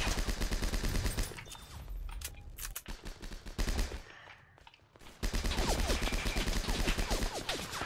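Dense rapid gunfire in a World War II video game, with machine-gun bursts and overlapping shots filling most of the stretch, a brief lull in the middle, then sustained loud firing again.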